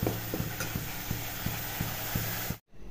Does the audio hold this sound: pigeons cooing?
no